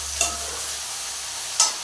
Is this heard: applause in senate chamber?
no